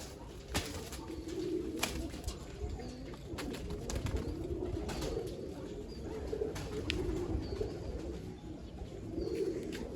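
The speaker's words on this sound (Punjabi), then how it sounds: "ਇਹ ਕਾਲੀ ਕਾਂਦ ਵਾਲੀ ਕਬੂਤਰੀ" Pigeons coo softly and repeatedly at a distance, a low burbling chorus under scattered clicks and faint rustling.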